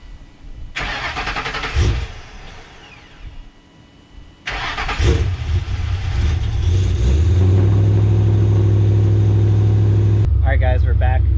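A supercharged Ford Mustang GT with a 3-valve V8 and swapped 6R80 transmission starts up and settles into a loud, steady idle close by, with a faint voice briefly over the rumble.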